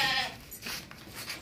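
A large two-tooth goat bleats at a livestock market selling animals for Qurbani, a couple of close, wavering calls over busy outdoor background noise.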